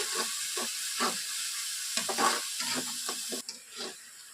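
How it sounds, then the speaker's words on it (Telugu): Ginger garlic paste fries in hot oil for a Hyderabadi chicken biryani, giving a soft hiss broken by short bursts of stirring and scraping at close range. "ఇప్పుడు ఇదే ఆయిల్లో అల్లం వెల్లుల్లి పేస్ట్ని వేసేసి బాగా ఫ్రై చేసుకోవాలి"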